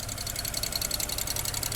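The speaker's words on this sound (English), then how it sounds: "She is not sounding too good right now. We got a misfire somewhere." The turbocharged engine of a BMW 335i runs rough with a misfire, a steady close-up rumble with an uneven, pulsing beat and no voices.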